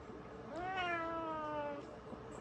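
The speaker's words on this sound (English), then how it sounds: "Probably why I can handle this cat right now" A cat gives one clear, drawn-out meow close by, rising then slowly falling, set against a quiet room.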